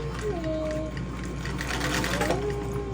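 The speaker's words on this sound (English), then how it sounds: "Okay, so I'm gonna sew this in the direction that makes the most sense" An industrial sewing machine stitches a hanging bag with a fast, steady mechanical whir and needle chatter, loud and close. A faint tonal squeak rises twice behind the motor noise.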